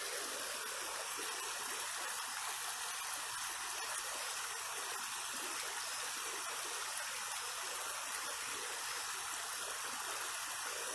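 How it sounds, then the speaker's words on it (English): Steady rushing of a flowing stream in the Smoky Mountains, a continuous broadband hiss of water that stays even and unbroken throughout, with no voices. "You hear the water?"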